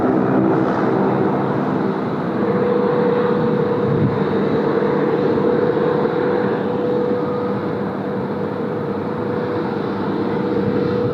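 Korean Air Boeing 787-10 on the runway at Sydney Airport, a loud sustained jet engine roar with a steady droning tone, continuous and fairly close throughout.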